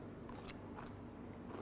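Someone bites into a crunchy mixture of boondi, paneer and peanut meant for samosa filling, giving a few close, quiet crunches followed by chewing.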